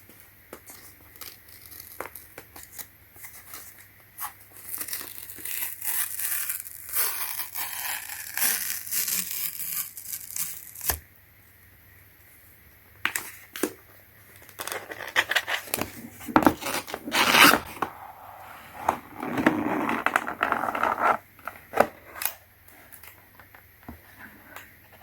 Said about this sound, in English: Let's peel off right here.